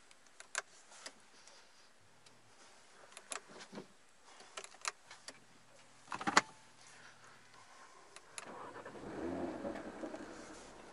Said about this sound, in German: Auto anlassen, findet sich ja dann im Zustand Klappen zu.